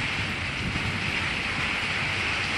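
Steady rain patters on carport covers, a constant dense hiss with low thunder rumbling underneath, close and unbroken throughout.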